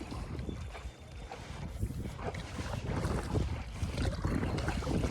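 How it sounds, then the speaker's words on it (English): On the water in Belize, a passing boat leaves a low, rumbling wash mixed with buffeting wind, growing louder and rougher toward the end. "We getting some waves from that boat that just went by."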